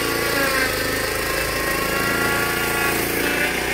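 Steady loud drone of the 13.5 hp Briggs & Stratton engine on a Junior Peterson portable sawmill running at constant speed, close by with an even buzzing hum and no pauses.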